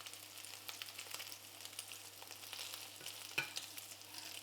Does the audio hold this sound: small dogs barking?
no